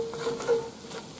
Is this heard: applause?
no